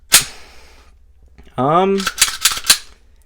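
The slide of a new, lightly oiled Canik Mete MC9 pistol is racked indoors: a sharp metallic click, a short pause, then a rapid series of clacks, close and distinct, with a voice briefly sounding between them.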